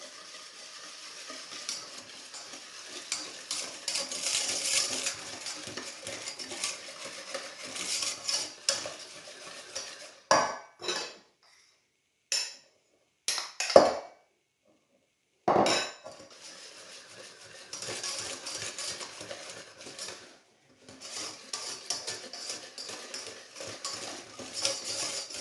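A spoon stirs flour into cake batter in a bowl with soft scraping and tapping, close by, broken by a few pauses and clinks against the bowl.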